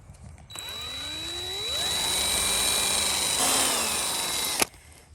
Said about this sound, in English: take the drill here and put it inside the tree.